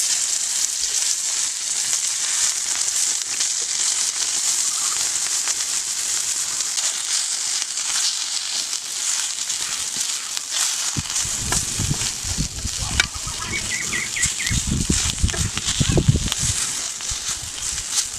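Fish sizzling as it fries in a small amount of hot oil, salted beforehand; a steady broadband hiss runs throughout, with louder crackling and spattering bursts in the latter half, no talk over it.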